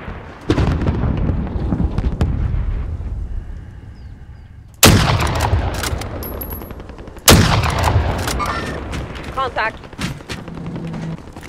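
Gunfire in the battle-royale shooter Warzone: several loud, sharp shots over continuous combat noise, with the sharpest cracks near the start, middle and later on, while players talk over it.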